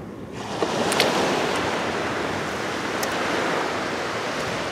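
Surf washes up on the beach at Saldanha Bay, South Africa, a close, continuous hiss of breaking waves that swells in after a brief quiet start and holds steady.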